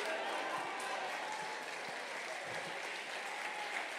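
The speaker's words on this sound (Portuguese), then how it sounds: "Se essas palmas são de esperança, aumente elas" Church congregation applauding during an evening service, a steady wash of many hands clapping at a moderate, even level, with a few faint voices beneath.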